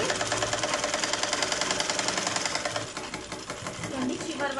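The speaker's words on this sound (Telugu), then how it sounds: "ఇప్పుడు దీనిపైన ఒక స్టిచ్ చేసుకుంటాం స్ట్రైట్గా" A sewing machine runs steadily while stitching a straight seam on a blouse, its needle producing a dense, rapid mechanical rattle that stays loud and close from start to finish.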